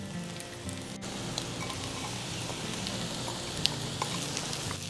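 Sliced onions tossed into a skillet of frying breakfast potatoes with bacon give a steady, close crackling sizzle with faint pops and no voices.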